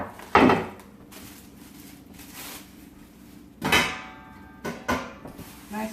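A sturdy 4-gallon cheese-making pan set down and shifted, giving a few loud knocks and clatters with a metallic ring, separated by quieter handling noise, close up and with no voices.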